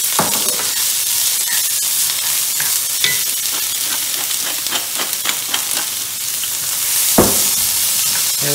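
Vegetables cook down in a pan, a loud continuous close sizzle broken by frequent stirring scrapes and knocks, with no talking.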